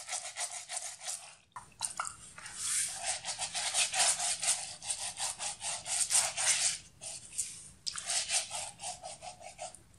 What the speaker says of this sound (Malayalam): ഇത് ഏകദേശം ഒരു 2-3 മിനിറ്റ്സ് രണ്ട് കാലം നന്നായിട്ട് സ്ക്രബ് ചെയ്ത് കൊടുക്കാം